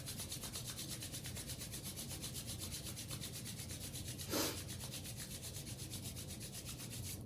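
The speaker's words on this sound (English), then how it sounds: "So let's rub the hands again together." Hands rubbing together briskly during a qigong face massage, a soft, steady, close swishing friction that continues evenly, with one brief louder scrape midway; quiet and without speech.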